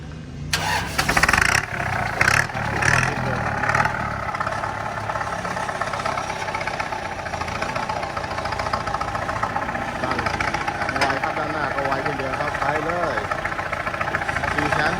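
A used Kubota M6040 tractor fitted with a front blade and rear plough cranks and fires up, then settles into a loud, steady diesel running rumble close by, with a voice speaking over it.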